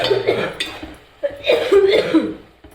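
A person coughs close by in a few harsh, rough bursts separated by brief pauses.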